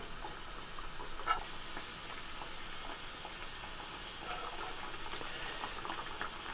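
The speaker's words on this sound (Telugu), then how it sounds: "ఇందులో కచోరీలు వేసుకుంటే బాగా కాలుతాయి" Kachoris sizzle in hot oil in a pan, a steady, fizzing bubble with faint crackles that runs unbroken at an even, moderate level; no voices.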